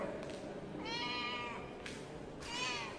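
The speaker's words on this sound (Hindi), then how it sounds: "ये हमारी बिल्ली है, ये हमारी कैट है, क्यूट सी कैट है।" A pet cat at a boys' hostel of a pharmaceutical sciences institute meows two or three times in drawn-out, rising calls, moderately close against quiet background noise, with no one speaking.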